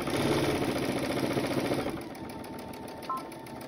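Sewing machine with a denim needle stitching through multiple layers of upcycled jeans, a close, steady mechanical whir for about two seconds before it stops and a quieter hum remains.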